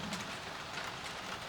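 Steady rain falls on an outdoor platform on a grey evening, a soft continuous hiss with no distinct drops or voices, fairly quiet throughout.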